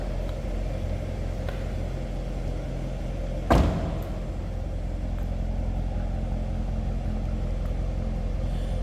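A 2019 Chevrolet Corvette Grand Sport 2LT convertible idles with a steady low rumble, broken once by a short sharp knock partway through.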